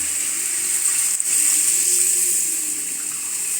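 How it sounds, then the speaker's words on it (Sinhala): Water pouring steadily into a pot of Sri Lankan village-style beef curry, a continuous close rushing splash with no talk. "ඔන්න වතුර ටිකක් එකම එකතු කරගන්න."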